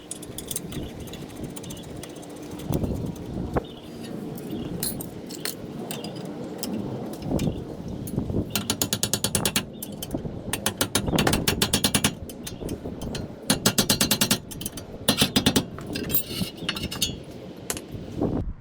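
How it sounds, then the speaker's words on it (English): Ratchet bolting up a brake caliper mount on a 2009 Honda Civic, with bursts of rapid metallic clicking between clinks and tool handling, close and fairly loud. "So bolting up my caliper mount."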